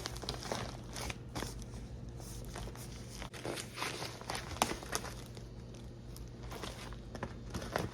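Plastic packaging from a 613 blonde frontal wig being handled and crinkled up close, with scattered rustles and crackles over a steady low hum.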